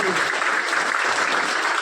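An audience at a Gujarati community honouring ceremony with mothers, sisters and anganwadi workers present claps steadily and loudly throughout, a dense continuous wash of hands with a faint voice underneath.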